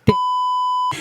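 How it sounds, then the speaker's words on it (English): A censor bleep, one steady electronic tone held for most of a second, cut in between brief bursts of talk at either end. "All I heard is beep."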